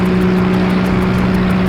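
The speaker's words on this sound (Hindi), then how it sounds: "ये कोई मोटर बोट की आवाज है" A motor boat engine drones steadily and loudly with a constant low hum and a broad rushing noise, close by with no voices.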